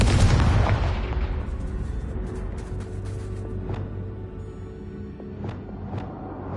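The Confringo blasting spell detonates in a Harry Potter video game: one loud, close boom at the start that rumbles and decays over several seconds into quieter game music and small effects.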